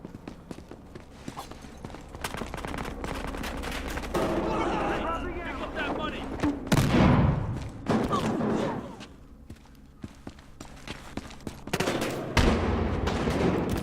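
Gunfire in the Hitman: Blood Money video game, several sharp shots mixed with footsteps and game sounds, with someone talking over much of it.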